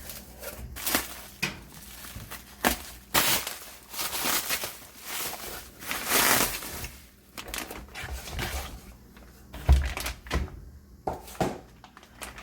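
Shipped box holding a Good and the Beautiful Language Arts Level 3 homeschool curriculum being torn open, with a series of close cardboard rips, flap thumps and rustling of packing material, irregular and fairly soft.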